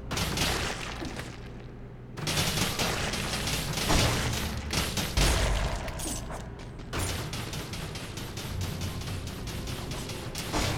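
Flashbang blasts and dense clattering combat noise from the video game Dead Cells form a continuous loud barrage, with sharper bursts punching through near the start and middle.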